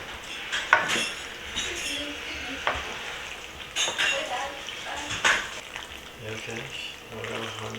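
Ingredients for a cheesy Trinidad-style macaroni pie get stirred and mixed in a pot, with scraping, clinking utensil sounds and soft wet churning heard up close over a low background hum.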